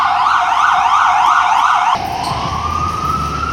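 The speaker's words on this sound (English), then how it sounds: "before the ambulance was going by" An ambulance siren wails loudly as it passes close by, a rising-and-falling electronic tone that drops in pitch and shifts to a steadier, fainter wail partway through as the vehicle moves away.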